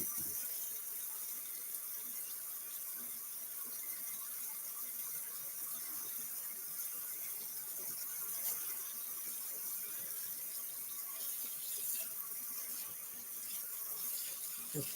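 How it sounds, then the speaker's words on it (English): Hot water running from a kitchen tap into a sink, a faint, steady stream with small squeaks and clicks from the faucet and no voices. "Trying to let that hot water come on."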